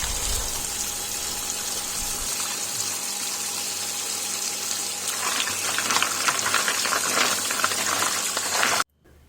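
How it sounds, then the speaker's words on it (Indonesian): Cold water pours and gushes steadily over boiled snail meat in a kitchen, a continuous splashing wash that grows busier midway and stops abruptly near the end. "kemudian siram dengan air dingin ya, supaya daging bekicotnya tidak alot atau keras"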